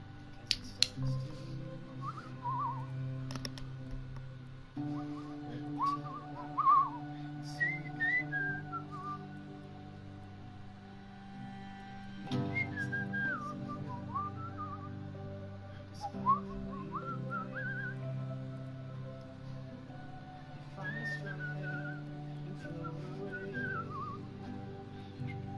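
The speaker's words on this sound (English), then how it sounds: "some whistling." A person whistles a wandering melody alone, the clear tune rising and falling in short phrases over a soft sustained music backing, fairly quiet and close.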